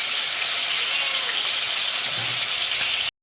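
Chicken pieces fry in oil on a gas stove with a dense, steady hiss and crackle that stays loud and close before cutting off abruptly at the end.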